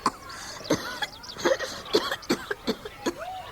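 A woman coughs in a fit of repeated harsh bursts with a few throat-clearing sounds, each spaced by brief pauses, close and fairly loud in an otherwise quiet room during a reading of Jane Eyre.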